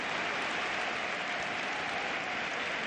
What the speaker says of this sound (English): there's even applause from the home fans